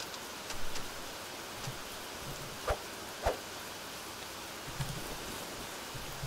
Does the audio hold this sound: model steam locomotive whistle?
no